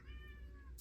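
A pet cat meows once indoors, a short, fairly faint tonal call that fades out near the end, with no talking over it.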